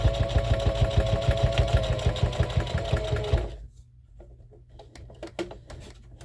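Sewing machine stitching a reusable scrubbing sponge with a fast, steady mechanical chatter that stops abruptly partway through, followed by faint handling clicks and rustles.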